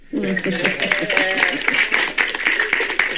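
A small audience at a spiritual gathering claps in a loose, scattered way while people keep talking over it at close range.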